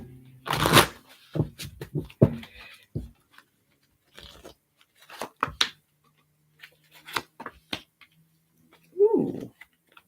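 A deck of reading cards is shuffled near the microphone in a series of crisp riffles and soft slaps, in short bursts separated by pauses, ending with a brief vocal sound.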